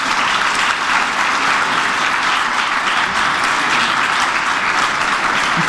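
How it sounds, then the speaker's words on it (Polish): Steady, loud applause from an audience fills the clip, continuous clapping with no voices rising above it. "Gorące brawa."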